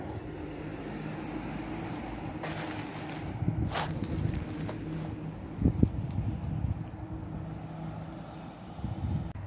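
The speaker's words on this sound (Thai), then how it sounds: "ตัวนี้มันคืนลมมาครับผม ลมเบิดเลยครับ" Strong wind gusts across a Thai vegetable garden abroad, heard as a continuous roaring rush on the microphone with a few louder bursts and no speech.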